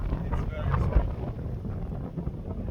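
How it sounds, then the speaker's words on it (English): Strong wind buffets the microphone outdoors during a stand-up bike ride through the Netherlands, a steady low roaring rumble with gusty swells and faint muffled voices underneath. "the wind is strong"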